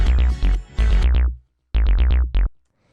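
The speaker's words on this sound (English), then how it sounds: "It's kind of like this heavy 303 type of bass." Heavy 303-style synth bass from Ableton Operator plays alone in short punchy notes with sweeping filter plucks, two bursts of stabs separated by a brief gap, loud and close.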